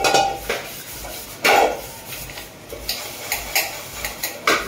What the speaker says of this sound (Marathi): ही दुपाऱ्यांची भांडी आहे ती आपण आता घासून घेतो